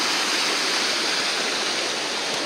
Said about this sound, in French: La cascade est là-bas.